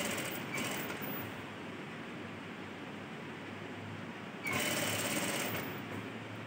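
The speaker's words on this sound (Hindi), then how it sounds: "सिलाई को ढकते हुए हमें इसको स्टिच करना है" A sewing machine stitches fabric over piping on a short kimono sleeve, a close, steady motor buzz with rapid needle chatter that pauses briefly and then runs again.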